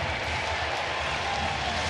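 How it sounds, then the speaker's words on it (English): A baseball crowd at a Royals–Angels game rises to its feet, producing a steady wash of distant cheering and applause that holds at an even level from start to finish. "The crowd is starting to get up on their feet."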